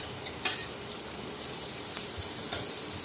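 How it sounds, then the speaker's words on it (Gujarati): Chopped onions go into hot oil in a pan and sizzle with a steady, bright frying hiss, close and fairly loud. A few soft clinks of a utensil sound, and nobody speaks. "એમાં આપણે આ કાંદા કાપેલા નાખી દેવાના છે"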